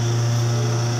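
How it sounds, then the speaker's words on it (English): A lawnmower runs steadily in the background beside a swimming pool, a continuous low motor hum with a strong steady drone, distant and unbroken throughout. "In the background, somebody's mowing the lawn"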